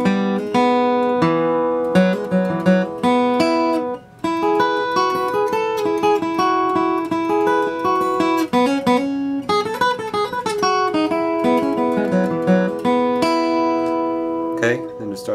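Acoustic guitar plays the first half of a bluegrass break at a slow tempo, a steady run of clearly picked single notes with a few sustained chords, close and unaccompanied.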